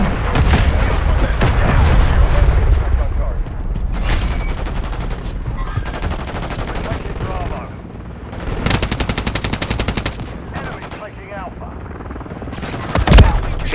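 Heavy battlefield gunfire and explosions from Call of Duty: Modern Warfare III, with sustained machine-gun rattle and rapid volleys, deep booms and a sharp blast near the end, all loud and continuous under shouted voices.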